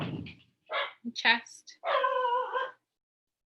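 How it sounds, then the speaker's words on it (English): Pet dogs bark, yip and whimper in short bursts nearby in a quiet home, ending in a longer whining bark, with a voice briefly heard at the start. "I'm really sorry if you're hearing my dogs."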